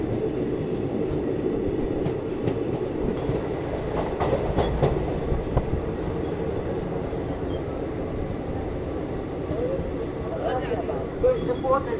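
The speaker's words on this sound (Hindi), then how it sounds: "और ये कमाल है WDP के एक्सेलरेशन का" A WDP diesel locomotive pulls the Shalimar Express out of a station and speeds up, with a continuous rumble and rail clatter heard from on board and a few brief knocks along the way.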